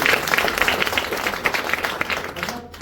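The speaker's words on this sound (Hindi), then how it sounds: "मैं सब लोगों से ताली चाहूंगा उनके लिए।" An audience at a beautician training seminar claps steadily in a dense, continuous burst of applause that fades slightly near the end.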